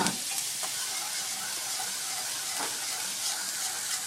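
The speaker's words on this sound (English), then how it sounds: "So we'll whisk a little bit more" Enchilada sauce being whisked in a hot pan, a steady close bubbling sizzle with faint scraping of the whisk throughout, no voices.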